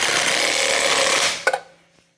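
Power tool, likely an impact wrench, tightening wheel lug nuts on a tow vehicle in a star pattern: a steady loud whirring run of about one and a half seconds, then a sharp final burst before it stops and falls quiet.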